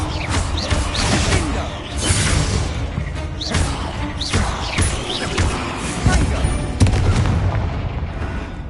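A Bombarda blasting spell going off in Hogwarts Legacy, with repeated loud booming bursts and slams over a dense, busy game soundscape, several impacts spaced through the stretch.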